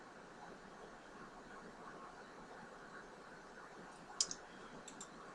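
A computer mouse gives a crisp click and then a couple of fainter follow-up clicks as a software menu is opened, all quiet against a soft, steady background hiss.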